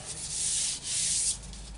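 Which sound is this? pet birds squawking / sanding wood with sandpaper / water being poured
sanding wood with sandpaper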